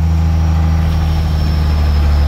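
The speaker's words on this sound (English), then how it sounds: "Turbo sounds really good" A turbocharged International Loadstar DT466 dump truck engine runs steadily up close, a loud low diesel drone with a thin turbo whine held high above it, no voices.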